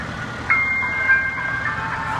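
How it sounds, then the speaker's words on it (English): Fire trucks roll past, a few sustained siren-like tonal notes rising over a steady roar of road traffic, fairly close and loud for a couple of seconds. "I think they got every fire truck almost."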